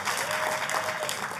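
A church congregation claps in a brief, dense burst of applause, steady and fairly close, with no speech over it.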